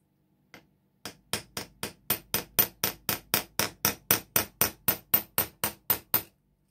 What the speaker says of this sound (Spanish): vamos a utilizar un martillo más grande. ¿Ven? Este es más pesado porque si no va a ser muy, muy suave el golpe